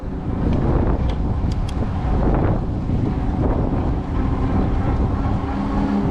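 Heavy wind buffets the microphone on a Cyrusher Kommoda e-bike ride along a trail, a loud continuous rumbling roar with constant gusty fluctuation.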